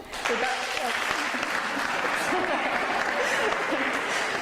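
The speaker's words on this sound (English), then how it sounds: "People are just so excited to clap" At an art curators' awards presentation, an audience claps after a first-place award is announced, with sustained even applause from a large room and faint voices mixed underneath.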